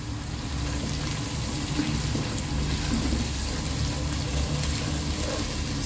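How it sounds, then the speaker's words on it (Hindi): Water goes into a pan of frying onions, garlic and ginger, giving a steady hiss and bubbling sizzle that stays at one level for several seconds, close and unbroken. "थोड़ा सा पानी हिला के डालेंगे ताकि प्याज हमारी जल ना जाए।"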